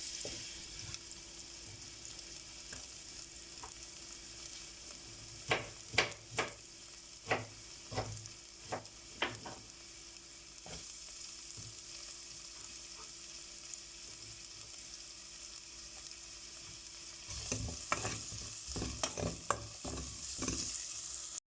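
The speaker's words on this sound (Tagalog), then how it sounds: "gigisahin na din natin yung ating ground beef" Ground beef sautéing in a pan with onions, a quiet steady sizzle broken by a few sharp stirring scrapes and clinks in two short bursts, no talking.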